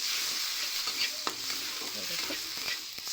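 Turmeric and spice masala frying and being stirred in a pan over lowered heat, a steady soft sizzle with scraping strokes, fairly quiet and with no talk.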